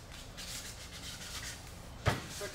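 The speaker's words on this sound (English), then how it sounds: "Now I'm going to take my sandpaper and I'm going to sand this by hand" Sandpaper rubs back and forth by hand on a Peavey Reactor guitar body in soft repeated rasping strokes, quiet and close, with a brief knock near the end.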